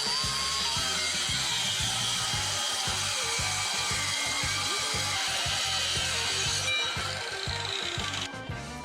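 A power saw grinds steadily through the end of a metal piece with a rapid, pulsing buzz, loud and close, easing off near the end.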